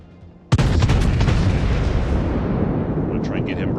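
A battleship's main guns fire a salvo in World of Warships: one sudden heavy boom, followed by a long loud rumbling roar that decays slowly, with faint crackles near the end.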